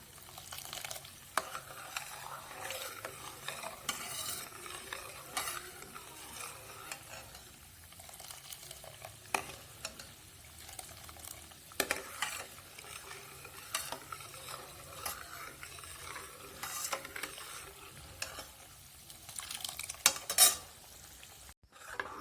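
A ladle stirs ghee cooking down from cream in a pot, giving soft repeated scrapes and clinks over a faint, steady sizzle, heard quietly and close up with no talking.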